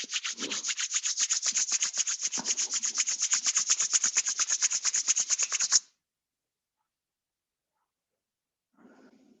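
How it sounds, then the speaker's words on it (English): Palms rubbed briskly together during a yoga session, a close, rapid rhythmic swishing that runs for about six seconds and then stops abruptly into silence, with a faint voice near the end. "Rub your palms."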